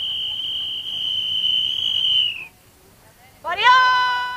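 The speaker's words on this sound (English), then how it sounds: "a single blast on a whistle" One long, high, steady lifeguard whistle blast lasting over two seconds, followed after a short pause by a brief wavering whistled tone.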